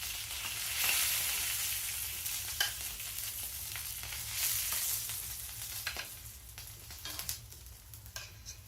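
Johnsonville brats frying in a pan, a loud continuous sizzle and spatter with scattered pops and crackles close up.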